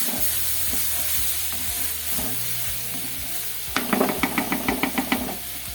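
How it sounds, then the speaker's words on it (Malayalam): Country-style chicken curry sizzles in a pan as it is stirred, a steady frying hiss with a few low scrapes, then a quick run of rhythmic spoon knocks against the pan edge near the end. "ഇളക്കിയൊക്കെ കൊടുത്തേക്കണം, അല്ലെങ്കിൽ ചിക്കനും കരിയും ഇതും കരിയും"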